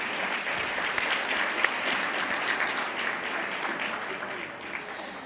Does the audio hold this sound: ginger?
no